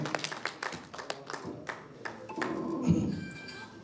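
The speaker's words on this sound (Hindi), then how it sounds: "तालियों में कमी नहीं आनी चाहिए और तालियां रुकनी नहीं चाहिए।" Audience applause at a political rally: scattered, moderately distant clapping with uneven individual claps that thickens into a denser patter toward the end.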